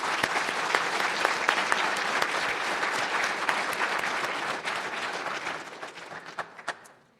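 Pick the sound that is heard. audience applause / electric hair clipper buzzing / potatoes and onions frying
audience applause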